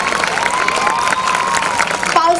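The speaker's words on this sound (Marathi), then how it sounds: "जोरदार टाळ्या होऊन जाऊ द्या." An audience at a school annual day claps loudly with cheering mixed in, a steady crowd roar of applause while a voice carries over the top near the end.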